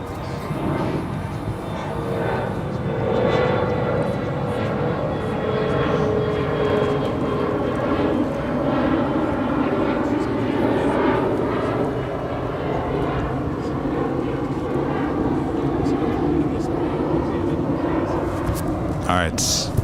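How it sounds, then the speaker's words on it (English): A Delta Air Lines Airbus A220-300 takes off from the east side at Dallas-Fort Worth International, its engine roar building and sustained with shifting tonal whines, while a voice talks over it. "It's an A220-300 taking off there on the east side."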